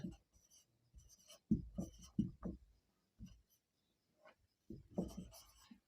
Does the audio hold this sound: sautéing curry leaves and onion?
no